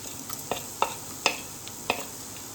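Cumin seeds, cinnamon, cloves and cardamom fry in hot oil for a brinjal fry, a continuous close sizzle with four or five distinct popping crackles spaced through it.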